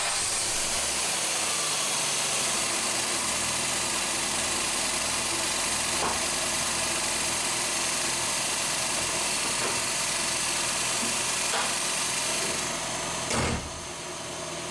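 A Ford Fiesta MK4 with a 1.3-litre engine idles with the bonnet shut, a steady, even hum that stays constant throughout, with a single short knock near the end.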